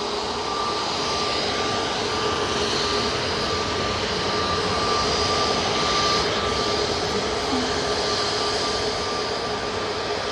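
An easyJet Airbus A320neo bound for Belfast runs its jet engines at Manchester Airport, producing a continuous loud rushing roar with a faint steady whine, unbroken for about ten seconds and free of talk.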